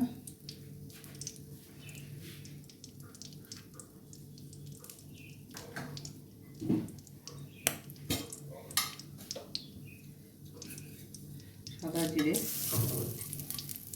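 Bay leaves fry in a generous amount of hot oil in a pan, a faint steady sizzle with a few scattered clinks and stirring knocks, rising louder near the end.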